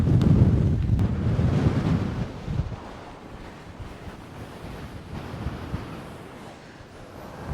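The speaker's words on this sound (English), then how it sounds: "very windy." Gusty hilltop wind roars against the microphone, loudest at the start and then settling into a steady, rushing buffeting that continues throughout with no voices.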